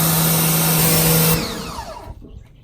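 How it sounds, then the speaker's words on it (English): Loud and close, a Sun Joe SPX3000 electric pressure washer whines and hisses with a steady motor hum, then cuts off and winds down into quiet after about a second and a half. "Notice that it's not until you actually squeeze the trigger that you get any response from the pressure washer."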